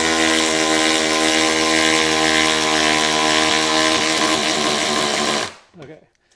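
A Ryobi 4V lithium cordless 3/8-inch ratchet runs with a loud, buzzing motor whir that holds steady, then wavers near the end before shutting off, followed by a faint brief rattle.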